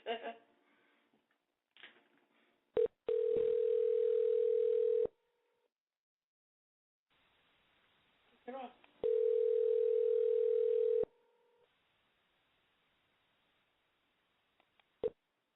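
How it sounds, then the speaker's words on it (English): A telephone tone plays as a call is dialed into a radio show: two long, loud steady tone stretches separated by clicks and short dialing noises, with a brief faint tone and silence around them. "you're going to hear us dial, too."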